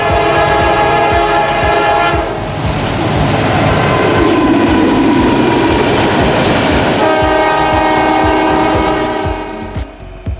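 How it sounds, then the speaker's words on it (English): A loud, sustained multi-tone train horn chord blares over rumbling, clattering railcars, holding steady for several seconds before the rolling train noise continues. "hence giving us the train horns that we know and love"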